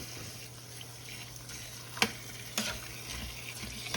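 Tap water runs steadily into a stock pot in a home kitchen while old-school turkey stock is being made, a constant rushing hiss broken by a couple of sharp clunks near the middle.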